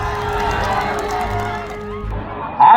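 A crowd at a political rally in Bihar or Jharkhand claps and cheers for the chief minister's promise, a steady wash of applause and shouts that holds for a few seconds before a louder burst at the end.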